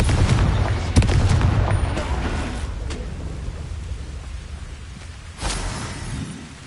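Bombarda and Confringo explosion spells burst in the Hogwarts Legacy video game: a heavy booming blast at the start with rumbling decay, then a second explosive impact near the end, loud and close.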